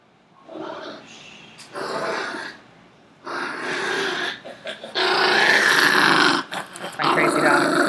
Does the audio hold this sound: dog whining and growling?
yes